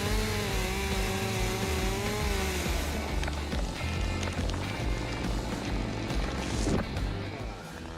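A Husqvarna 572 XP chainsaw with a 70.6 cc engine cuts logs in snowy woods, its engine droning loud and steady throughout, with a high revving whine early on and a drop in level near the end.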